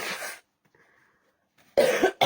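Two bursts of harsh coughing, one at the start and a louder, longer one near the end, separated by near silence during an intimate spoken prayer.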